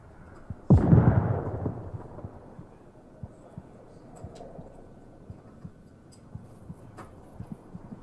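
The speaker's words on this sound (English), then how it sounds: "explosion." A grenade detonates in the Onward VR shooter on Quest with a single booming blast that rolls off into a long, fading rumble. Faint scattered clicks and distant pops follow.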